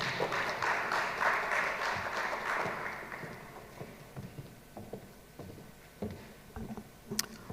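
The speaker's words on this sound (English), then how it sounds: "Let us give her a round of applause" Applause from an audience at an investment programme launch, dense clapping at first that thins out and fades into scattered claps and faint room noise.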